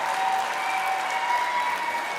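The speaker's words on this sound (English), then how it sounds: "Don't make the applause too long" Dense, steady applause from a large audience at a university graduation ceremony, continuous clapping without pause.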